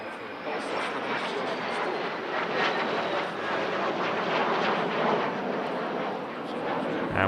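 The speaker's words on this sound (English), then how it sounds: "Followed by one of their 3 737-800 Boeing business jets, escorted by a pair of F-16Cs." A Boeing 737-800 business jet flies past with a pair of escorting F-16C fighters at an airshow, a loud, steady broadband jet roar that holds without a break.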